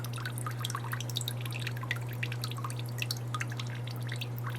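Water drips into an angelfish tank in a quick, irregular patter of small close plinks over a steady low hum, with no talking.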